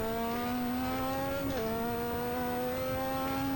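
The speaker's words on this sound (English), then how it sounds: "This car, by the way, the Lotus 98T, is absolutely vicious." Lotus 98T turbo Formula 1 car accelerating hard through Becketts at Silverstone, a loud sustained engine note climbing steadily, with a brief dip and gear change midway, heard close and continuous from the cockpit.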